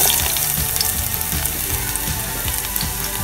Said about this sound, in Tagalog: Igisa lang natin yung bawang.